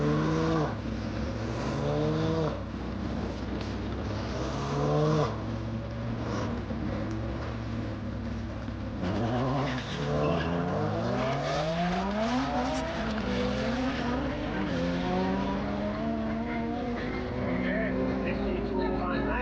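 A BMW and a nitrous-fed Honda FD2 Civic Type R drag race with engines revving and sweeping up through the gears. The engines are loud but partly masked by a voice talking throughout.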